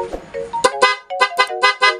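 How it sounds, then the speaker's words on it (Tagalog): A PIAA car horn sounds in a short tap, then four quick honks in a row, loud and close. "Busina po natin"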